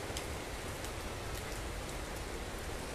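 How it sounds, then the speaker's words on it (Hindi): Heavy rain pours down across an open park, a steady dense hiss of drops striking the ground with no pause or change in intensity throughout. "ऐसी बारिश हो रही है"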